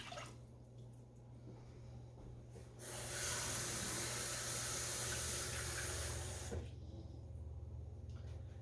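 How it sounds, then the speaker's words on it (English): Regular tap water runs into a pot for boiling white rice, a soft hissing splash that swells for about four seconds between quieter, drippy kitchen background. "we're going to put in 2 cups of water, just regular tap water"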